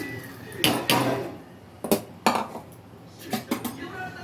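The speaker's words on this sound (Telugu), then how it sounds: "రైస్ వడగట్టుకొని వేసేసుకుంటున్నాను" Drained rice being tipped into a cooking pot, with a few close, sharp metallic clanks and scraping bursts from the pot and utensil spread irregularly across the moment, no speech.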